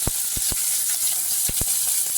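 Steady sizzling hiss of onions frying in hot oil with cinnamon, cloves and fennel, with a few sharp pops and crackles scattered throughout.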